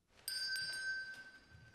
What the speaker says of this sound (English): Oh, the dog does hit that stupid bell.